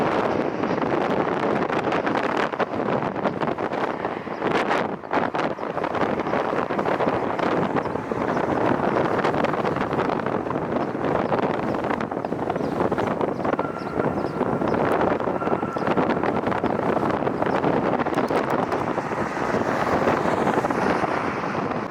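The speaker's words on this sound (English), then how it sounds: "Wind's kind of dying down a little bit." Strong wind gusting across the microphone at an airport during plane spotting, a loud continuous roaring rumble that stays steady throughout with no talk.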